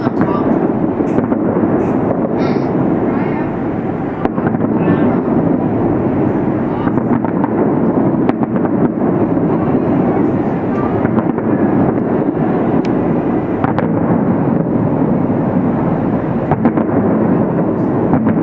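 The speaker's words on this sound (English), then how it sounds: "11 minutes of fireworks." A long fireworks show at Caesars Palace in Las Vegas crackles and booms in a continuous barrage of bursts, heard from a distance, while people talk over it and wind buffets the microphone.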